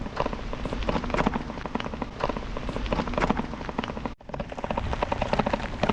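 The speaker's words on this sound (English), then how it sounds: "And the rain just started right after I start my duty." Rain falls as a dense, continuous crackling patter, loud and close, with a momentary dropout near the end before the steady downpour resumes.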